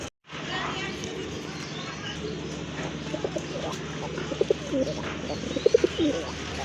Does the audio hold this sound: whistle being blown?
no